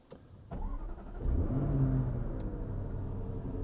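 A Jaguar's engine cold-starts with a short crank, then catches into a loud rising rev that settles into a steady, strong idle close by, with valves open.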